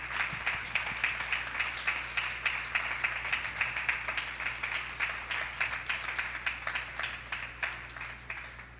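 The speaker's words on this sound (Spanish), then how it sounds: "le dé un aplauso bien fuerte a Dios" A church congregation applauds steadily for several seconds during a worship service, a dense sustained crowd clapping heard alone at moderate distance.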